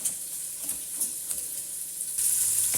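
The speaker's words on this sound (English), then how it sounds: "once the bacon's cooked, I will pop the carrots in to cook off as well" Bacon fries in a pan with a soft, steady sizzle and a few faint crackles and pops, close and fairly quiet, with no voices.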